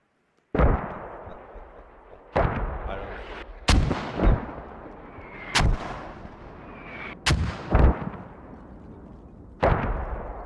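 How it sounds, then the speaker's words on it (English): Mortar fire booms in a military shooter game, a series of loud, heavy blasts arriving every second or two, each trailing off into a rumbling echo, with faint voices beneath. "Can anyone confirm if our mortars are actually hitting shit?"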